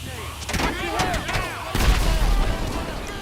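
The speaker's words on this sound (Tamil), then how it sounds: "ஐயோ வெடிக்க போகுதுடே பெட்ரோல் டேங்க்கு." In GTA 5 gameplay a petrol tank explodes with a heavy, rumbling boom that hits partway through, following a stretch of crackling gunfire-like bangs, with voices talking over it.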